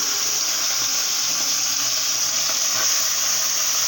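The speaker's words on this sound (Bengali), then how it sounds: "তো এখন এই চলুন মোরলা মাছটা আমরা ভেজে নিই" Morla fish frying in hot oil, a steady close sizzle and hiss running throughout with no voices.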